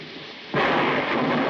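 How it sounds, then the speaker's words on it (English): Soft steady rain hisses until a sudden loud thunderclap breaks in and rolls into a sustained, heavy rumble of thunder during a thunderstorm. "I love thunderstorms, don't you?"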